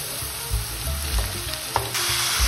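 Bell peppers frying over high heat in a pan with softened golden onions for a Tuscan peperonata, a steady close sizzle with a few light stirring knocks and scrapes throughout.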